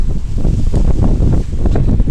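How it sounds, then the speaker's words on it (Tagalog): Strong wind buffets the microphone in a loud, continuous low rumble with gusty swells and rustling throughout, no voices. "grabe ang hangin dito ngayon guys. Ang lakas ng hangin."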